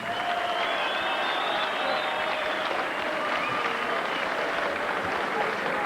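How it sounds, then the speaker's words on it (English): A boxing arena crowd applauds and cheers for a former world featherweight champion, a loud, sustained roar of clapping with whistles and shouts carrying over it, unbroken from start to finish. "a round of applause please for one of the finest world champions of the 1990s"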